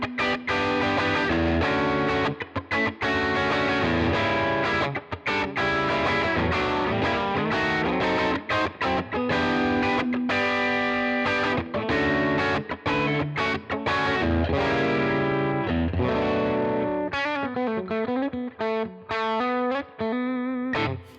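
A Fano Omnis MG6 electric guitar with high-output pickups runs through an AmpliTube '57 Fender Deluxe amp, playing loud, continuous, driven chords and riffs with a warbling, bending lead phrase near the end, and no talking.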